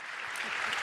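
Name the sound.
applause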